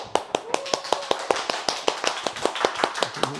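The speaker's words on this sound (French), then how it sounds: "Un applaudissement." Clapping greets a guest on a café talk show, a few distinct sharp claps at a lively rhythm close to the microphone, with voices speaking over them.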